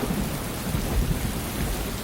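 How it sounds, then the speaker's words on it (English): Heavy rain pours steadily at Quebec during a thunderstorm, with deep rumbling thunder rolling underneath the dense, hissing downpour throughout. "It was pouring rain when we landed."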